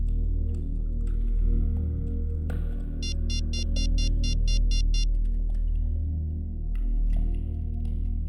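A telephone rings in a quick electronic trill, repeating in several short evenly spaced pulses over a low steady hum.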